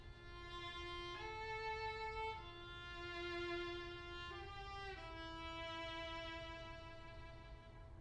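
A solo violin plays the slow treble line alone, sustained notes stepping between pitches, clear and close.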